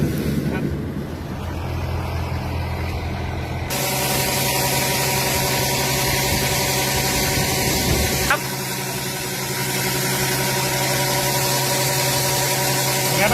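Yanmar YS85 corn harvester with a Contender header working a cornfield: a loud, steady diesel engine drone with constant mechanical rattle and hiss, briefly shifting in tone partway through, no voices.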